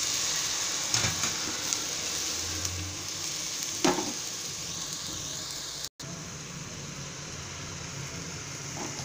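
Peas and mixed vegetables frying and being stirred in a pan for veg kuruma gravy, a steady close sizzle with occasional scrapes of the spoon against the pan, no talking.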